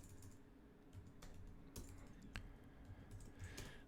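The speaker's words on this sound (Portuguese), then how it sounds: "tô digitando tudo errado" Close, quiet typing on a computer keyboard while coding a button system, with irregular bursts of key taps and a few sharper clacks over a low room hum.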